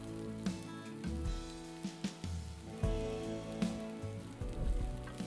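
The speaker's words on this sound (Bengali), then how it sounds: "সমস্ত মশলাটাকে আমি ভালো করে কষিয়ে নেব" Ground cumin, coriander, turmeric and chilli powders sizzle and fry in a pan for chicken curry, a steady close crackle with small pops and stirring knocks throughout.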